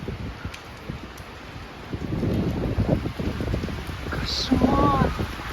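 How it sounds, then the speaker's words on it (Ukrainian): Storm outdoors in Ukhta, with gusty wind buffeting the microphone and steady rain, building louder midway and staying rough to the end, with a faint voice briefly audible near the close. "Кошмар, ураган."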